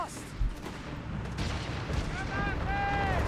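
Grenade explosions in Company of Heroes 3 burst as a sharp boom early on, followed by a rumbling run of battle noise with gunfire, while a voice talks over the action.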